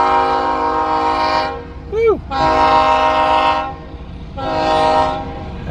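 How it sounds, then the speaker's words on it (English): A passing train in rural East Texas near Rusk sounds its horn in three long blasts over the rumble of the cars, loud and close, with a brief shout from a person between blasts. "I like looking at trains though."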